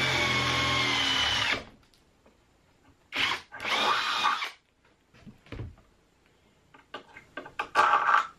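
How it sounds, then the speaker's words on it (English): Power drill boring a small pilot hole in aluminum bracket stock for a solar power setup, a loud whirring burst followed by several shorter on-off drill pulses with pauses between. "smaller bit first to start a little pilot hole. And then just going to step up to a bit big enough"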